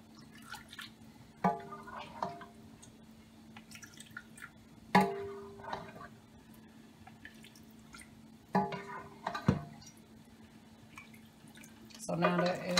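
Liquid is poured into a homemade chicken dressing mix in a kitchen, giving faint, intermittent splashes and drips spread over several seconds, quiet and close.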